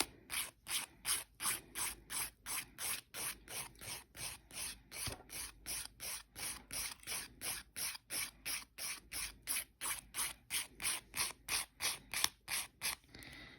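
Acrylic resin nails being filed with steady, rhythmic back-and-forth rasping strokes, about two per second, close and continuous for the whole stretch with no talk.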